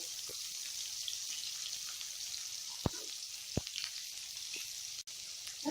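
Chopped cabbage, beans, carrot, green chilli and onion stir-frying for chowmein make a soft, continuous sizzle with occasional sharp clicks of a spatula against the pan, and no voices.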